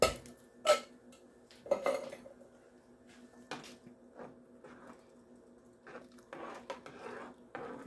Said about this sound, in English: I'm going to add the diced stewed tomatoes. That's going to give it flavor too. And then we're just going to stir that up.